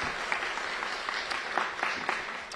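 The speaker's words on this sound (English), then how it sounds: "please give her a round of applause and join us for that" An audience gives Mayor Muriel Bowser a round of applause at a theatre ribbon cutting: steady, moderately distant clapping with a few sharper claps standing out, and no voices over it.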